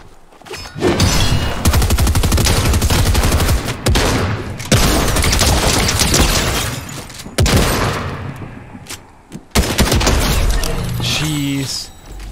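Gunfire in the video game Fortnite, with dense, loud bursts of rapid shots and heavy impacts that run almost continuously, broken by a few short pauses.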